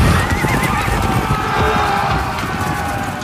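Very fast horses charge across a muddy, slippery battlefield, with loud neighing and whinnies over a rumbling, continuous pounding of hooves and a dense din of the charge, with voices faintly mixed in.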